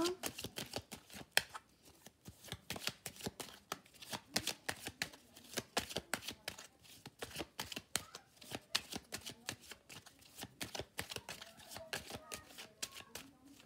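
Tarot cards shuffled by hand in a steady run of rapid riffling flicks, close and fairly quiet, continuing alone without talk.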